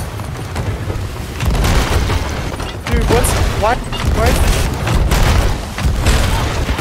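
Booming cannon fire and explosions ring out aboard a pirate ship in a video game, repeated heavy blasts rolling over one another while players shout and talk excitedly over the barrage.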